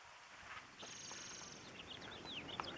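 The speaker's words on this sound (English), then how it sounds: "Another spotted towhee. 2 different calls of the spotted towhees." A spotted towhee gives a few sharp, high call notes against a steady outdoor hiss, with a faint rustle beneath, fairly distant.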